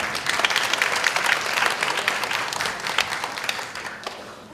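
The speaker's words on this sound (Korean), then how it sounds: "박수 부탁드립니다" An audience at a high school debate final applauds as a judge is introduced, with steady, fairly close clapping from many hands throughout.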